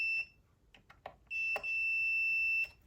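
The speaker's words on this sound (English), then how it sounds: "that beep tells me that the wire connecting this eyelet to this one here is good" A continuity tester checking chassis wiring gives short electronic beeps, then a longer steady tone, clear and close against a quiet background.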